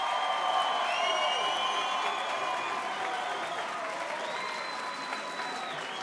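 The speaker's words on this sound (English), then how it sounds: "how about a big round of applause for these 2 ladies?" Sustained crowd applause with some cheering and whoops at a women's combat sports promotion event, steady and full for several seconds, with a whistle-like tone running over it.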